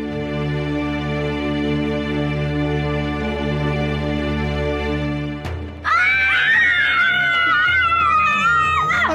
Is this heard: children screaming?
yes